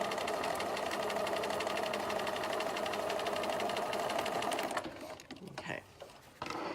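A sewing machine runs steadily stitching a quarter-inch quilt seam for a quilt block, a fast even mechanical whir close by that stops near the end, leaving brief rustling handling noises.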